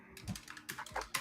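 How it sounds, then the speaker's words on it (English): Rapid typing on a computer keyboard, a brief burst of clustered key clicks in the background with a faint low hum underneath. "What's all that typing in the background?"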